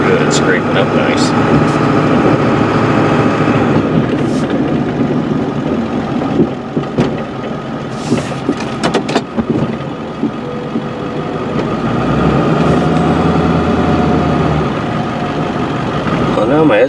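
Steady engine rumble of a snowplow truck working a fresh, undriven snowy surface, with a broad scraping roar underneath and someone talking over it throughout.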